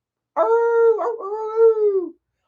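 A man imitates a dog howl with his voice, a single loud, sustained tonal howl close up that wavers briefly in the middle and trails off, with silence on either side.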